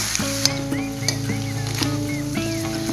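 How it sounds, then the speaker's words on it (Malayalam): Crab pieces coated in onion gravy sizzle steadily in a pan while being stirred, with a continuous frying hiss broken by light scraping clinks of the spoon, close and moderately loud with no talking. "ഞണ്ടിലേക്ക് ഈ സവാളയുടെ ഗ്രേവി നന്നായിട്ട് പിടിപ്പിച്ചു കൊടുക്കുക."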